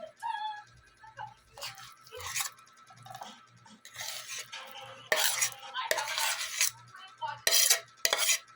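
Pumpkin batter and powder get stirred in a bowl for puto kalabasa, with a utensil scraping and clinking against the sides in repeated short bursts, close and fairly loud, with no talking.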